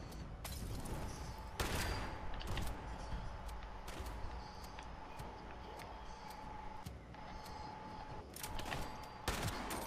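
Gunfire from a Fallout 76 multiplayer firefight, with several sharp shots and short bursts at irregular intervals over a steady hum and muffled in-game background noise.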